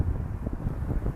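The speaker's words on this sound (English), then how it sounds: "It's real windy." Low, blustery wind rumbles steadily across the microphone, buffeting in uneven gusts with no voices.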